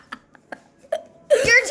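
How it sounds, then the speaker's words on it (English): A child in a burp contest lets out a loud, short burp near the end, after a few quiet clicks and small mouth sounds. "I burped too much."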